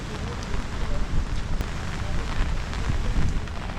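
Rain falling outdoors near the Hagia Sophia and its fountain in Istanbul, a steady, close hiss of drops on hard surfaces that runs through the whole clip with a few louder spatters.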